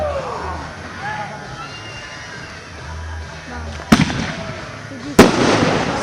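Fireworks at an outdoor fireworks show go off with two sharp, loud bursts late on, preceded by faint whistling rises, while a crowd's voices and nearby talk murmur underneath.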